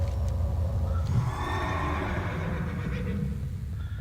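A horse in the World of Warcraft video game gives a long whinny that carries across several seconds, fairly close and steady, with a faint clip-clop of hooves and no voices.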